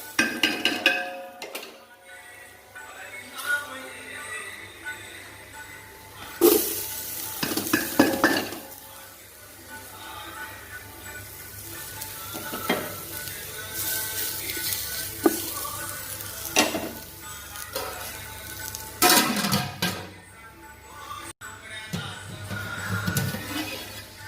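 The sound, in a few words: capsicum and beans frying and being stirred in a pan for white kurma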